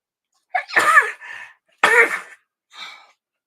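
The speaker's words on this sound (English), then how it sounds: "This had to sneeze." A sharp, close sneeze followed by a second burst and a softer breathy aftersound, with short silences between.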